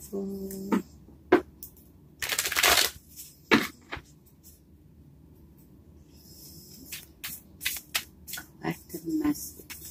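Intermittent papery riffles and a louder burst of tarot card shuffling, with soft handling noises between, close to the microphone.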